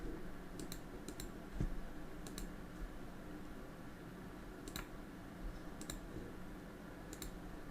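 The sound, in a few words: computer mouse clicking during Windows 11 setup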